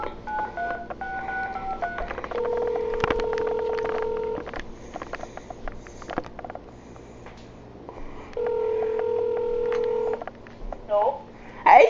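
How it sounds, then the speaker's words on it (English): Telephone keypad tones beep in short steady runs as a number is dialed on a phone, the tones fairly loud and clear over a low background hum, with a voice speaking around them. "gonna call up someone with my phone book"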